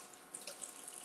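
Water from a kitchen sink faucet runs steadily and faintly while something is rinsed, with soft splashing flickers and no voices.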